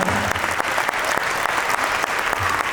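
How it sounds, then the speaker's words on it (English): Crowd clapping at a school annual day rewards ceremony, dense continuous applause from a large audience, loud and sustained throughout. "A big round of applause to Team Ikshana."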